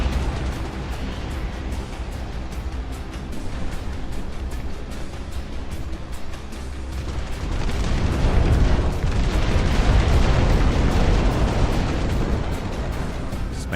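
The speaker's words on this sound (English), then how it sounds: "Start this strategic bombing campaign" Heavy, continuous rumbling explosions from a strategic bombing campaign in the RTS game Dust Front roll on without a break, swelling louder and denser in the second half, with no talk.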